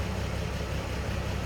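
A 1949 Chevrolet 3600 pickup with its 235 six-cylinder engine idles smoothly from behind the truck, a steady low rumble with no exhaust bark, moderately loud and unbroken throughout.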